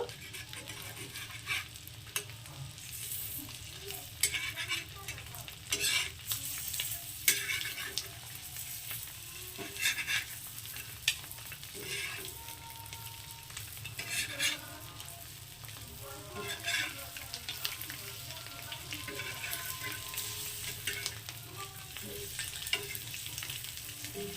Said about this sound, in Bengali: এবার এপিট ওপিট করে ডিমগুলোকে আমি ভেজে নেব